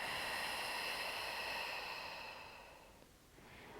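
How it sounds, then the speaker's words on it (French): Long, slow breath drawn in and let out during a guided relaxation session, a steady airy hiss fading near the end before rising again, heard alone without talk. "On va prendre une longue inspire, une longue expiration."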